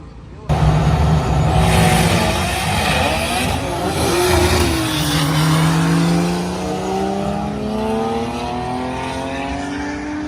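2JZ-swapped Subaru BRZ making a drag strip qualifying pass: the engine bursts in abruptly and loud, then its note climbs repeatedly as it pulls through the gears, close by and sustained to the end.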